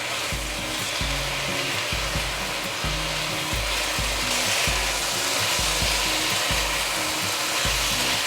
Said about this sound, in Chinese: 可以轉大火，快速翻炒